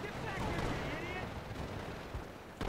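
Gunfire in Call of Duty 3 crackles continuously as a dense, rumbling battle din of overlapping shots and blasts, with a sharper crack near the end.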